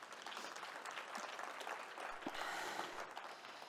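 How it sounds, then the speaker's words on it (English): Broad, continuous audience applause at the CGCSA Summit 2024, a sustained wash of many hands clapping, heard from a slight distance at modest level. "please give yourselves a big round of applause"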